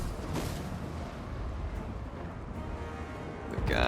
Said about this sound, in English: The artillery is absolutely savaging our enemies at the moment.